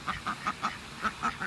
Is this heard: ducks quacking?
yes